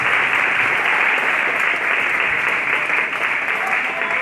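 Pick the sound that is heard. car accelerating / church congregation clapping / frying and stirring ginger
church congregation clapping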